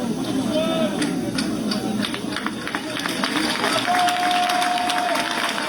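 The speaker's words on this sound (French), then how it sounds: "Regarde même la ferveur des applaudissements." Crowd applause at a political rally, with steady, fairly loud clapping and crowd noise throughout, with voices and a brief whistle-like tone mixed in.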